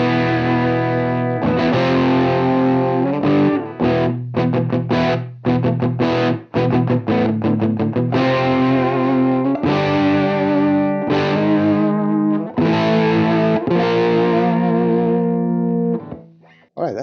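An Enya Inspire carbon fiber electric guitar plays straight into a Universal Audio Marshall Plexi amp plugin on its first preset. It gives crunchy, distorted chords in a choppy strummed rhythm with brief stops, loud and alone.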